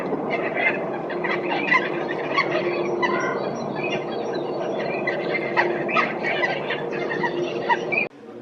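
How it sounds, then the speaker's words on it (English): A ruff's call plays from a museum bird display, a continuous run of low grunting and squealing bird notes over a steady hum, ending abruptly as the playback cuts off. "So this is the ruff."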